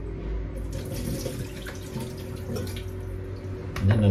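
Tap water running steadily into a kitchen sink while bitter melon is prepared for cooking with eggs, a continuous close splashing hiss with a brief louder gush near the end.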